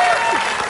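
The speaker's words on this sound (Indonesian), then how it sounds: "Tepuk tangan dong untuk saya." Studio audience applause on an Indonesian TV game show, a brief dense burst of steady clapping that stays loud and even throughout.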